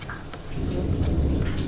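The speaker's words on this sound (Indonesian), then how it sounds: "Hari ini hujan." Steady rain pours down outside a kitchen in Palembang where burgo is being steamed, a dense continuous wash of sound that stays loud and even throughout, with no voices.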